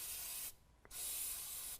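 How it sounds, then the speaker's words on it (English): Two bursts of silicone spray hiss onto shock bushings for a 2017 Ford F-250 Super Duty lift kit install, each a steady loud aerosol rush with a short quiet gap between. "I'm going to spray these both down with some silicone"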